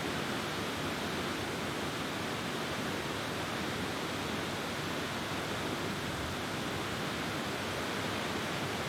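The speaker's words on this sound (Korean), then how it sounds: "곱게 따은 뒷머리처럼 양갈래로 흐르는 쌍둥이 폭포 노테포센" Notefossen, a twin waterfall about 274 m high beside a road in Norway, roars with a steady, dense, unbroken rush of falling water.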